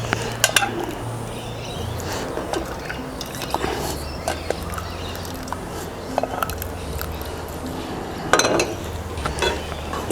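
Spaghetti carbonara is stirred in a hot pan, with soft scraping and clinking of utensil against metal, irregular light knocks and a faint wet sizzle, moderately quiet and without voices.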